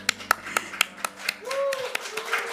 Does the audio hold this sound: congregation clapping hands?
yes